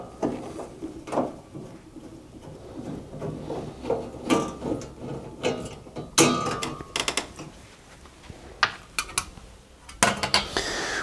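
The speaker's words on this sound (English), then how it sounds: "remove this top bracket to gain access to the dryer heater by undoing these four screws that hold it in place" Small metal clicks, taps and rattles come from a screwdriver undoing the four screws on the top bracket of a Hotpoint or Indesit washer dryer, in irregular close bursts with brief pauses between.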